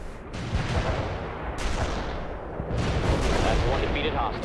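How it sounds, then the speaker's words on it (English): An anti-tank rocket launches and streaks off in World in Conflict, a rushing, explosive burst amid rumbling battlefield noise, with someone talking over it. "Oh, there goes another rocket."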